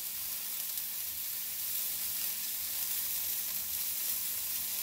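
Garlic fries in a pan for a chicken stir fry, giving a steady, even sizzle that holds unchanged throughout.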